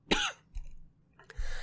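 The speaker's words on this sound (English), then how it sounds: "And of course, as I ask, I fucking cough." A single sharp cough up close, followed by a couple of softer breathy throat sounds and a short clearing noise.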